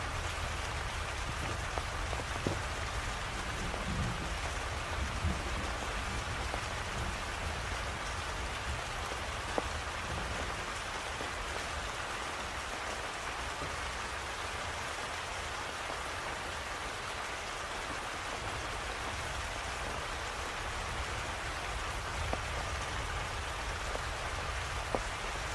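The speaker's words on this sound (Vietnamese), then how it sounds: "Giờ nó còn mưa." Steady rain falls throughout during a fishing outing, a dense continuous hiss of drops on surfaces with no talking, at an even, moderately loud level.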